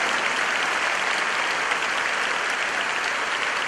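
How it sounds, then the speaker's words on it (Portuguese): A church congregation applauds during a Portuguese-language worship service, steady dense clapping filling the room from start to finish with no voices standing out. "Um aplauso para o Deus vivente, que nos abençoa com o seu poder."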